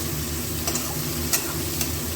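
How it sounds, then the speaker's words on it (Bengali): Onions fry in hot oil in a pan for bhindi masala, giving a steady close sizzle with a few soft stirring scrapes and no talking. "পেঁয়াজটা একটু ভাজা ভাজা হোক।"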